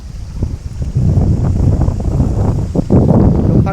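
Strong wind blows over the Hueang River rapids on the Laos–Thailand border, buffeting the microphone in a continuous loud rumbling roar with gusty surges.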